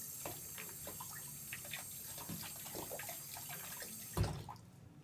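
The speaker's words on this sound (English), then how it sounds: "just rinse off, run water all the way through the tube and rinse off the outside." Water runs and trickles through a trumpet tube during rinsing, a soft, steady splashing flow that ends in a brief louder clunk, faint and without talk.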